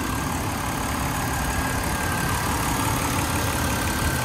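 A 2007 BMW X3 engine idles steadily at close range, a dense continuous rumble with a faint high whine running through it, no voices.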